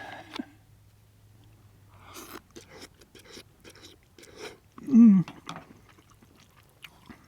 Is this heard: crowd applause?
no